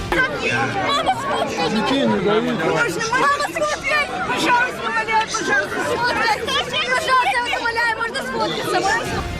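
Dense crowd babble fills the scene as a throng presses around Vladimir Putin on his visit to Dagestan, Russia: many overlapping voices chattering and calling out at steady loudness throughout, with no single speaker standing clear.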